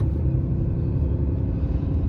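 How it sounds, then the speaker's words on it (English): A car rolls slowly along a bumpy gravel driveway while loaded with coolers, giving a steady, close, heavy low rumble of engine and tires throughout with no speech. "I'm on a bumpy gravel driveway, sorry."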